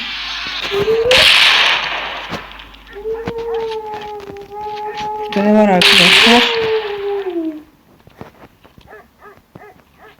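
A dog in a strange Roblox horror game gives drawn-out howling cries amid sharp game effects and bursts of noise, while a player talks excitedly over it.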